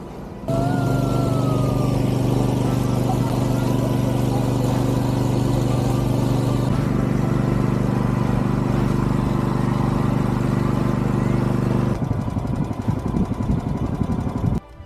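A motorboat engine drones loudly and steadily the whole time as the boat heads to shore in Thailand, a constant low hum that barely changes, roughening slightly near the end.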